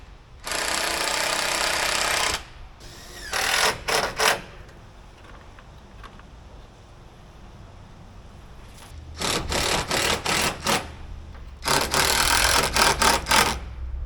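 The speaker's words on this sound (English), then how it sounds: "she's gonna help me hold the plastic in so I can screw it" A power tool drives screws through plastic roofing on a greenhouse, sounding as several loud whirring bursts of a few seconds each with quiet gaps between them, close by.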